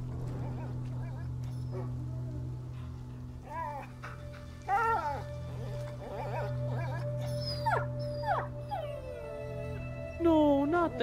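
Leo the dog in the video game A Plague Tale: Innocence whimpers and yelps in a string of high, wavering cries over a constant low hum, near and fairly clear, rising into a sharper whine toward the end.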